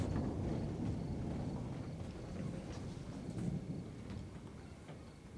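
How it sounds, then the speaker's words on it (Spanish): Steady rain and rolling thunder from a thunderstorm fill the scene with a dense, continuous low rumble, moderately loud and unbroken, with no talking. "No podemos irnos hasta que pase la tormenta."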